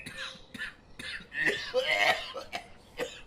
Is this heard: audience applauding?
no